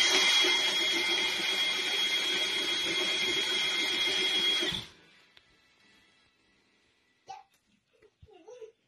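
An old DeWalt power tool whirs loudly and steadily while being used to make coffee, then cuts off abruptly, leaving near silence broken by a few faint knocks.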